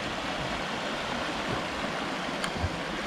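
Water trickles and rushes steadily along a stream in a waterside park, a continuous broadband wash with no voices over it.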